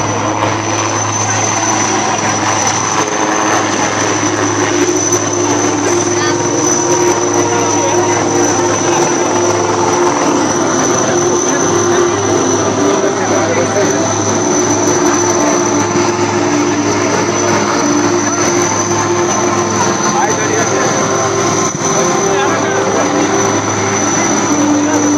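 Military helicopters, including a Chinook, fly over a Vijay Diwas air show, a loud, steady rotor and engine roar that fills the whole stretch, with a voice faintly announcing beneath it.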